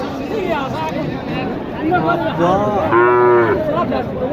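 Amid chatter and crowd noise at the Mataji cattle market in Naogaon, short lowing calls build into a strong, close moo from a Sahiwal cow near the end.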